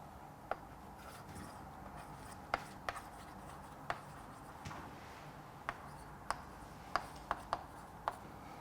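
Chalk or marker tapping and scratching on a board during a physics lecture, sparse sharp ticks and short strokes at irregular intervals over a quiet room hum, no talk.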